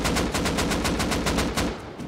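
Rapid automatic gunfire from the video game Rust rattles in a fast, even burst of roughly a dozen loud shots, with no talk over it.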